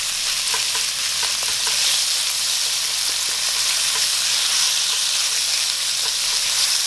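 Pieces of pork frying in fat in a pan, a loud, dense, continuous sizzle with rhythmic scraping and clicking from stirring across the whole stretch.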